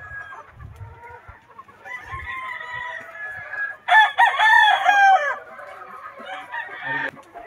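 Roosters crow loudly and repeatedly among clucking chickens in gamefowl pens holding banded cocks and pullets, with several birds calling close by in overlapping bursts.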